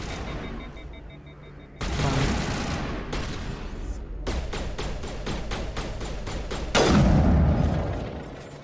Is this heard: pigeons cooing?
no